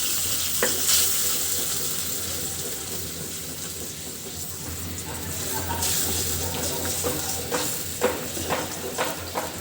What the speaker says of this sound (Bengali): এভাবে কিছুক্ষণ নাড়তে থাকবো